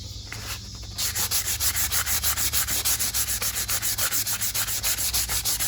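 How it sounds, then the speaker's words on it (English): Leather rubbed with 220 grit sandpaper gives a loud, close, rhythmic scratching, steady back-and-forth strokes about four per second, alone without voices. "we'll sand the backside of that leather too"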